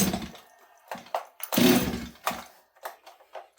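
A STIHL 026 chainsaw engine sputters and revs in short uneven bursts, fading out between them, as though it keeps stalling at a rough idle. It sounds close.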